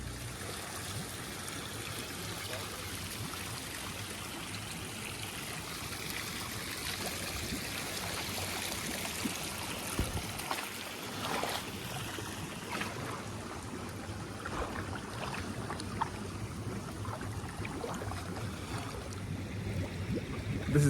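Naturally heated hot spring water at Jemez Hot Springs in New Mexico bubbles and trickles steadily, a continuous close wash of burbling water with no voices.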